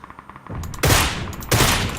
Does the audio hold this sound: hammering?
no